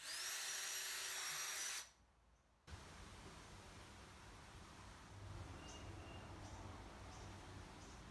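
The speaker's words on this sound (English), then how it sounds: "I drill out the screw holes for the front leg assembly" A power drill bores screw holes through a template into a wooden Adirondack chair front leg assembly, a loud steady whine for about two seconds that cuts off, followed by quieter workshop noise and faint clicks.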